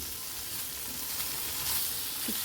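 Marinated paneer cubes sizzle and fry steadily in a pan, tossed lightly now and then, a continuous close crackle with no voices.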